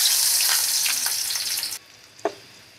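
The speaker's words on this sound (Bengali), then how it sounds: "পেঁয়াজটা দিয়ে আমি এখন বাদামি কালার করে ভেজে নেব" Chopped onions hitting hot oil in a pot, a loud close hiss of frying that drops off abruptly partway, leaving a quieter simmer with a single clatter.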